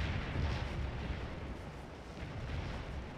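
Artillery booms in the Civil War battle game Scourge of War: Antietam, a dense run of heavy rumbling blasts that stays loud and continuous, with no voices.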